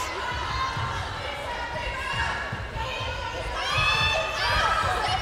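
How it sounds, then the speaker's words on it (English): Netball players on a team bench shout and call out loudly over continuous indoor crowd noise during a Surrey Storm v Team Bath match, with voices rising toward the end. "You can really hear the backbench from here really getting involved in the game and shouting some positive comments"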